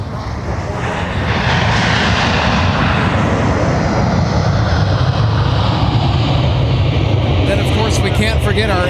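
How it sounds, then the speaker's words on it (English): Delta 170 Heavy, a widebody airliner in from Seoul, landing at Minneapolis–Saint Paul airport; a loud jet roar swells after the first second and holds as a sustained rushing engine drone. "How about Delta 170 Heavy arriving from Seoul tonight?"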